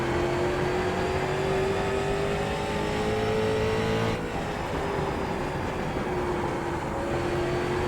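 Street stock race car engines in the iRacing sim at South Boston drone steadily at high revs, one engine note gliding in pitch, then dipping briefly before rising again, a continuous loud roar with no talk.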